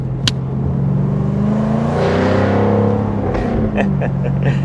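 A 2024 Jaguar F-Type R75 AWD Convertible engine revs and accelerates up close in a sport mode, its pitch climbing in smooth sweeps before settling into a steady hum, with a couple of faint clicks.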